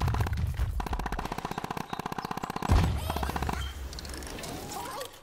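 Rapid automatic gunfire in the Plants vs. Zombies: Battle for Neighborville shooter game, a steady stream of fast shots for about three seconds, then a thud and a fading, noisier tail of game effects.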